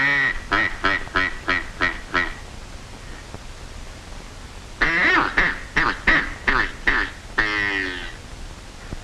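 Ducks quack loudly and close by in two rapid runs of harsh, nasal calls, separated by a short lull, with no talking.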